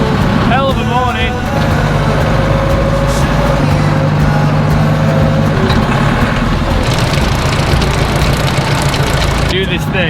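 A farm tractor engine idles loudly and close at hand with a steady low rumble and knocking throb that runs the whole time, while someone talks over it.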